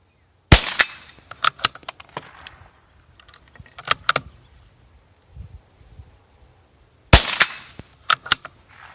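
A Savage MkII rifle fires a single round outdoors: two sharp, loud reports several seconds apart, each followed by the clatter of handling and the bolt working, with quieter mechanical clicks in between.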